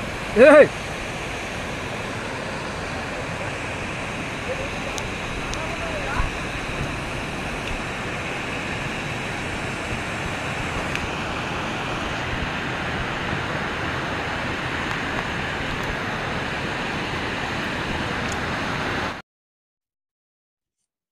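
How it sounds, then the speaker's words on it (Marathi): The Chirvali waterfall roars as a loud, steady, broad rush of falling water heard up close, with faint voices beneath it, until the sound cuts off abruptly near the end. "धबधबा अतिशय सुंदर असा आहे, जसे तुम्ही बघत आहात"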